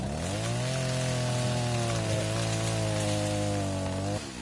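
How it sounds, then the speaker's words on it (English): A chainsaw runs at steady high revs close by, a loud continuous buzzing drone that holds evenly for several seconds before briefly dropping off near the end. "Chainsaw is loud as fuck in my ear."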